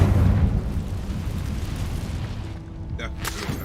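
A Confringo explosion spell booms in a Harry Potter video game, one deep blast that decays into rumble, with a voice shouting the spell's name at the start.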